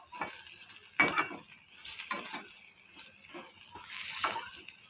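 Onions with salt sizzling softly in hot oil for egg bhurji, punctuated by intermittent scraping and stirring strokes of a spoon in the pan, fairly quiet and close.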